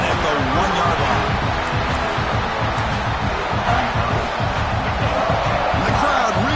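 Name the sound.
football crowd cheering near the goal line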